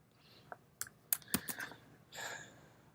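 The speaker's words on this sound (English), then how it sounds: "Okay, I'm going to type in some text." Quiet computer keyboard typing, a few scattered sharp key clicks followed by a soft burst of faint keystrokes, close and without speech.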